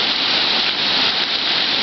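Steady rain pours down outdoors, a loud, dense, continuous hiss of drops hitting surfaces all around, with no pauses or voices.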